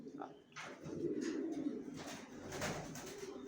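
Racer pigeons and their young in a loft give low, soft cooing. It runs steadily through the clip, with faint background noise and a voice in the room.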